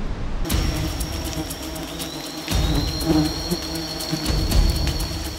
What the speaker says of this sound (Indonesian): sudah sejak lama menjadi tempat berlindung kawanan lebah madu